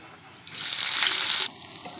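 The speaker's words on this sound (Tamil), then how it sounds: "வெங்காயம் நல்லா வதங்கிச்சு" Onions frying in oil: a loud burst of sizzle for about a second, rising suddenly and cutting off, with a quieter hiss before and after.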